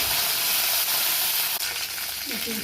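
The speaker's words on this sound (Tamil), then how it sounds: "நெக்ஸ்ட் வரமிளகா போட்டுக்கலாம் அடுத்து கருவேப்பிலை போட்டுக்கலாம்" Dried red chillies and curry leaves fry in hot oil with mustard seeds and urad dal for a sweet potato stir-fry, making a dense, loud hissing sizzle close up with a few faint stirring clatters.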